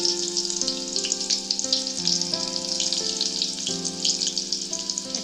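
Stuffed bitter gourd pieces fry in hot oil with a bright, steady crackling sizzle, while a melodic background tune plays throughout.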